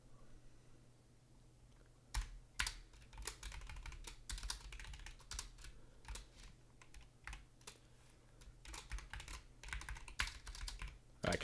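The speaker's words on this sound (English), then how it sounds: "I cannot type today." Computer keyboard typing, a quick burst of key clicks followed by a steady rapid patter, close and clear over a low constant hum, with no voices.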